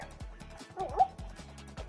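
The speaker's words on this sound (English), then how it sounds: "this is my my dog Coco here" Pet dog Coco gives a few short yips and whimpers up close, mixed with handling bumps and light background noise.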